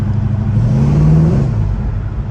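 A 1970 Chevelle SS with a 454 big-block V8 revs close by, its deep engine note rising to a peak and then easing back down in one steady, loud surge.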